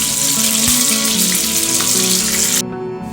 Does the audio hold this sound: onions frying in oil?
yes